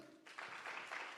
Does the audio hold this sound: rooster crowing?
no